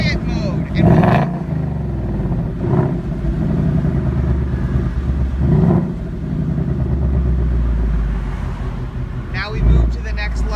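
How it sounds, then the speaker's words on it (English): A 2018 Ford Mustang exhaust in quiet mode gives a steady low engine drone with a few brief louder swells, close by, while a person talks over it. "So listen to the different exhaust notes. You can hear it right here. Escuche. This is the quiet mode"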